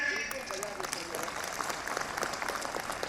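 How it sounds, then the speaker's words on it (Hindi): Audience applause in a hall, a steady spread of many hands clapping at moderate distance, faint and sustained throughout without a break. "क्या ऐसी ज्यूडिशरी के लिए तालियां नहीं बजनी चाहिए?"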